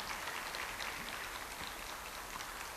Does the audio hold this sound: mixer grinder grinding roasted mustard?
no